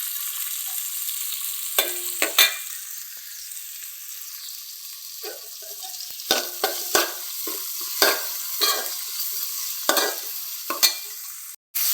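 Tomatoes sauté in a pan with shallots, ginger, garlic and curry leaves, giving a steady soft sizzle broken by repeated sharp scrapes and clacks of stirring, with no talking.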